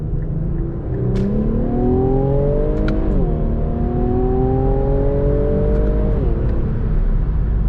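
Infiniti Q60 Red Sport 400 pulling hard in second gear, engine tone climbing steadily, dipping briefly at a shift point, then rising again under a constant road and wind roar from inside the car, no talk.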